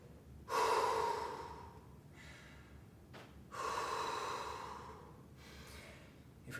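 Heavy breathing while recovering after a HIIT workout: two deep, audible inhale-exhale cycles, close and breathy, with long drawn-out exhales.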